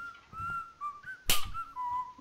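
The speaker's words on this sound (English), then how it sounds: "Very nice whistling skills." A melodic whistled tune in a video game wavers up and down in short phrases, with a brief sharp hiss cutting through midway and soft background noise.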